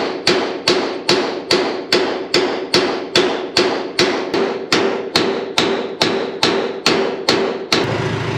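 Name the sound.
hammer pounding bolt through steel on mini truck bed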